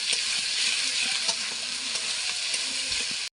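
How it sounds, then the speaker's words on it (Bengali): Spice masala with ginger paste and salt cooking down in a hot pan, a loud continuous sizzle close by with occasional scraping stirs, cutting off abruptly at the end. "লবণ দিয়ে মশলাটা ভালো করে কষে নেবো আবার"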